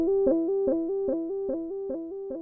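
OP-Z synthesizer delay at full amount with a long cutoff: a steady sustained tone with evenly spaced echoing pulses about every 0.4 seconds, holding level without fading like an endless repeat.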